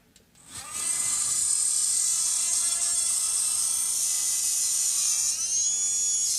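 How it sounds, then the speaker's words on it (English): A small vacuum cleaner switches on and settles into a loud, steady high-pitched whine that holds for several seconds, close by, with no talk, in a guitar repair workshop. "I have a small vacuum cleaner here."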